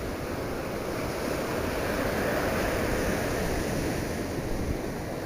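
Sea waves breaking on a shore with a continuous broad surf roar, some wind buffeting the microphone, steady and fairly loud throughout with no voices.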